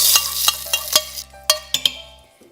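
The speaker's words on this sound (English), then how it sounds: "we are frying the curry leaves and dried red chilies and mustard seeds in oil" Curry leaves, dried red chilies and mustard seeds fry in oil, a bright hiss that quickly fades, punctuated by several sharp pops and clinks of the pan close up, with no voices.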